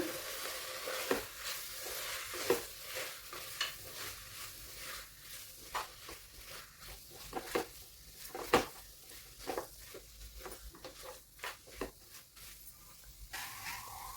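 A spoon stirs mutton biryani ingredients with coriander and mint in a pot, scraping and clinking in irregular strokes over a faint sizzle, close and moderately quiet with no talk.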